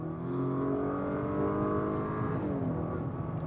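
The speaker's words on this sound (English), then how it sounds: "turbocharged 4-cylinder engine that makes 272 horsepower and 280 pound-feet of torque" A 2023 Acura RDX's turbocharged 272-horsepower four-cylinder engine, in sport mode, revs up with a rising, throaty growl, held steady and then dropping back, loud and close with no talking.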